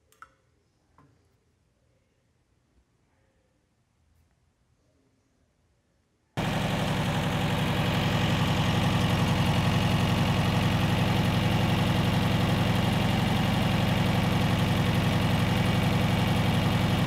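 A Porsche 356 engine with Solex 40P11 carburetors idles loud and close. It cuts in abruptly after several seconds of near silence with faint ticking, then holds a steady, dense running note to the end.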